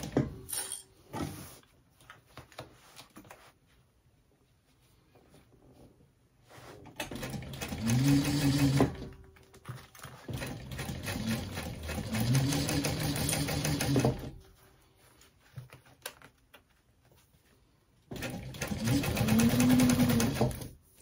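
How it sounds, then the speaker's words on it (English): Sewing machine stitching a backpack in three bursts of a steady whirring motor drone that rises and holds, separated by quiet pauses with small clicks and handling sounds. "continuing on with the first line of stitching."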